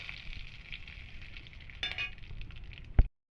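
Black cumin and cinnamon temper in hot oil alongside bay leaf and dried chilli, a soft steady sizzle with a brief clatter of stirring and a sharp metallic knock just before it cuts off.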